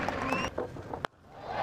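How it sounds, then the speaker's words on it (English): A cricket stadium crowd at an Australia vs Scotland T20 match roars with cheering and applause as a dense, steady wash of noise. It drops out abruptly for a moment, then swells back up. "And that has brought the crowd back to life"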